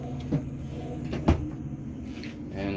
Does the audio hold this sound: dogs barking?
no